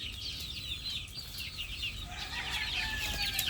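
Young chicks peep in a dense, high, continuous chatter as they are moved, heard faintly at close range with no talking.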